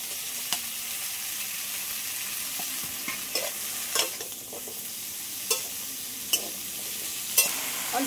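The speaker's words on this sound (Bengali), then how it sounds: "এই কুমড়ো শাকগুলো দিয়ে দিচ্ছি কড়াইয়ের মধ্যে।" Pumpkin greens stir-frying in a wok, with a steady close sizzle and occasional sharp scraping clicks from a stirring utensil spaced a second or so apart, no talking.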